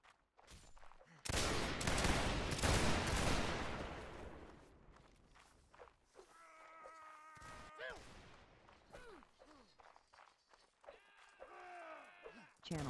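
Rapid video-game gunfire bursts out loud and dense near the start, trailing into scattered shots, with a voice talking over much of it and brief whooshing game effects later.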